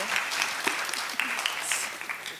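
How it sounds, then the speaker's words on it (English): A conference audience applauds a presenter at an academic session, a full, even wash of clapping that carries on steadily for a couple of seconds without pause. "Round of applause, please."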